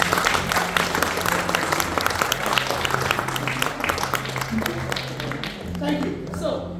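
A crowd at a community association's anniversary and launch event claps enthusiastically, a thick, continuous wash of applause that tapers slightly near the end.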